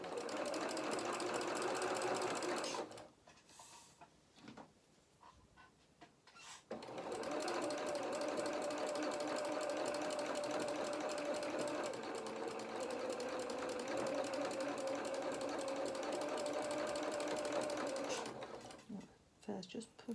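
A sewing machine runs a seam on a small winter skating coat, a steady close whirring stitch that stops for a few seconds and then resumes for a long continuous run, with a voice talking over part of it.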